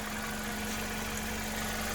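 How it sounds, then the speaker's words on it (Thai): A used petrol car with a manual gearbox idles steadily, its engine giving a low, even hum with a faint vibration and no other sounds. "เครื่องยนต์นะครับ"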